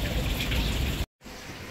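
Rain falls steadily in Hong Kong, a dense hiss with splattering drops that cuts out briefly and returns slightly softer.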